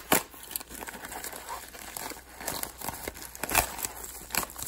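A football card mystery pack is cut and torn open, its foil wrapper crinkling and crackling up close in a steady run of small rustles and snips, with no talk.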